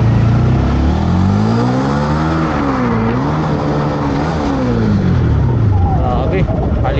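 A 2024 Honda Winner X 150 Racing Edition motorcycle on its stock exhaust pipe revs loudly and close, its engine note climbing and falling through several throttle sweeps in a sustained, buzzy drone.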